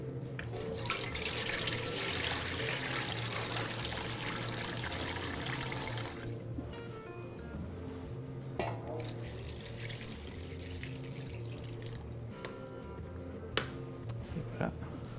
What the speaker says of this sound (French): va juste y rajouter un peu de liquide pour mouiller à hauteur